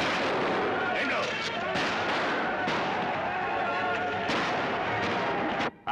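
Heavy gunfire in a 1940s war film trailer, loud sustained volleys with sharp cracks and booming impacts, continuous for several seconds under a dense orchestral-like roar.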